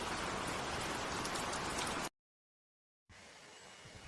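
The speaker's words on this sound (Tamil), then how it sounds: "மழை எவ்வளோ அதிகமா பெய்யுது" Heavy rain falls at night in a forest as a dense, loud, steady hiss, then cuts out abruptly for about a second before a softer, thinner patter of rain returns.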